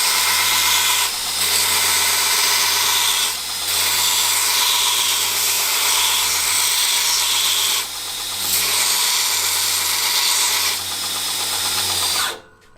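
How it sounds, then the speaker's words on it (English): A belt grinder grinds a knife blade, a loud, close, steady high-pitched whine and abrasive hiss that dips briefly several times as the steel is lifted and pressed again, then cuts off at the end. "now when I come to grind this blade"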